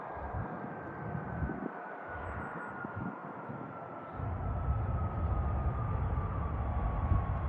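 A Southwest airliner rolling at Cleveland airport gives a steady jet engine drone at middling distance, with a whining tone and a rumble that swells louder partway through.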